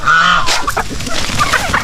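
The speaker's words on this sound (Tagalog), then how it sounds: "mga lalaking pabo na sa labas naman to" Male turkeys gobble outdoors on a backyard farm in loud, rattling bursts close by, several birds calling over one another in a busy flock.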